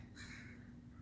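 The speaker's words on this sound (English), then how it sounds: "Got a bird squawking." A crow caws once, faint and distant, over steady low hum and outdoor background noise in a quiet residential neighborhood with gravel front yards.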